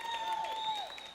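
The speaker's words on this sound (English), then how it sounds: "That was crappy applause." A morning conference audience gives a brief, thin round of applause, a soft even patter of clapping beneath a steady high tonal hum.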